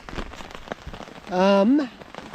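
Rain falls steadily on a bush camp during a kayak trip, patters and drips crackling throughout, with a brief tonal voice or bird-like sound in the middle.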